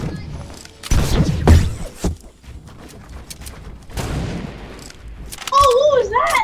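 Sharp sniper rifle reports in a first-person shooter match, a couple of loud cracks with echoing tails, mixed with game sounds and a few tonal effects, a voice speaking briefly between them.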